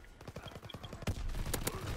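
A Sten submachine gun fires in Call of Duty: World War 2, a rapid rattling burst of evenly spaced shots followed by louder sharp reports and a short voice over the game noise.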